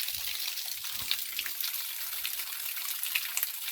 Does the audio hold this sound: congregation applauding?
no